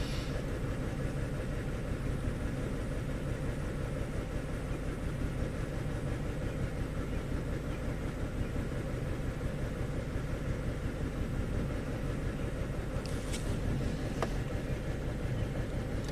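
A car engine with an intermittent misfire idles steadily at constant revs, a low, continuous rhythmic chugging heard close up with no voices and only a couple of faint clicks near the end.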